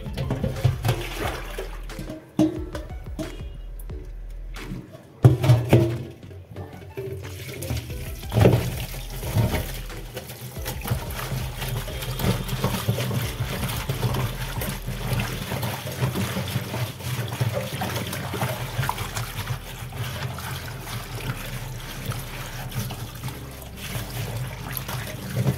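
Grimy wash water trickles and pours off an old bread basket during cleaning, a continuous near stream of running, splashing water with a brief louder gush early on.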